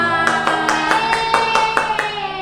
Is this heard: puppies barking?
no